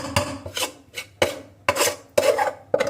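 A spoon scraping and clinking against a cooking pot of mixed vegetables, chickpeas and rice, with repeated close, rasping strokes and metallic knocks in an irregular rhythm, no voices.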